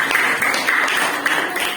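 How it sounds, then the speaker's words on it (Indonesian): A classroom of students gives a short, brisk round of clapping for a student group, the claps dense and close with no pause. "Sekali lagi tepuk tangan untuk kelompok A."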